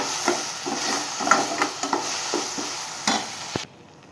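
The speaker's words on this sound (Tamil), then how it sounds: "இஞ்சி பூண்டு பேஸ்ட் போட்டுக்கலாம் போட்டு அதே வதக்குங்க" Ginger garlic paste sautéing in a pan, a steady close sizzle punctuated by repeated sharp scraping stirs at an irregular rhythm, with no voices, ending abruptly in near silence.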